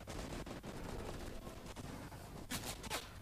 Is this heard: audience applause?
no